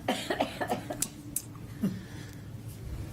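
Several quick, rough coughs in a burst near the start, then a single deeper cough a moment later, close by and fairly quiet, from an adult at the tail end of a cold.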